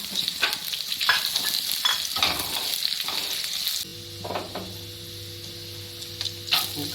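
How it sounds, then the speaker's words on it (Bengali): Chopped garlic frying in a pan with leftover rice and vegetables, with a bright crackling sizzle and quick stirring scrapes that quieten midway to a softer hiss over a low background hum. "এবার এই রসুন কুচি একটু দিই একটু কুচি করে নিয়েছি রসুন"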